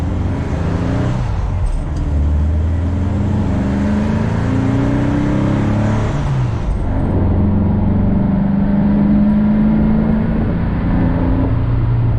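A 1966 VW Split Bus with an air-cooled 2332 stroker motor accelerates onto a main road, its engine droning and rising in pitch through the gears with a dip at a shift, loud and close from inside.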